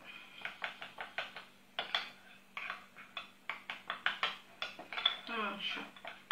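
A spoon clinks rapidly against a bowl while stirring chia seeds into soy milk, a quick rhythmic run of close, bright taps.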